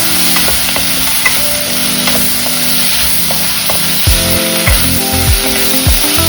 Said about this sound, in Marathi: असं छान परतून घ्यायचं